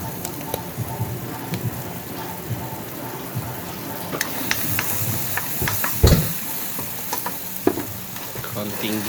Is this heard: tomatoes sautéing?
yes